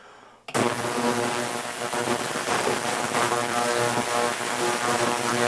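Electric jewelry cleaner running while cleaning gold jewelry, switching on suddenly into a steady loud electric buzz with a humming drone that holds constant, close and alone.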